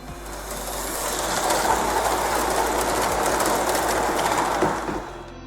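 Hornby Dublo 3300 HP electric model locomotive running on track, a steady close mechanical whirr with rapid clicking wheel rhythm that swells and fades slightly as it passes, no speech.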